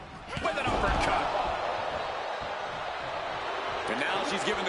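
A heavy uppercut lands with a sharp thud in the WWE 2K26 wrestling game. The arena crowd roars steadily throughout, and commentators talk over it.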